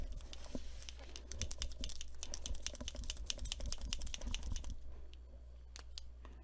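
Rapid rattling clicks of a liquid chromium paint marker being shaken, a dense run of sharp ticks from the mixing ball that stops abruptly, leaving a low hum and a few stray taps.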